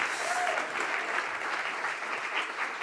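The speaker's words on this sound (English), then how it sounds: "Let's give him a big round of applause." An audience at a startup demo day event bursts into a big round of applause, a steady wash of clapping with faint crowd murmur underneath, sustained throughout.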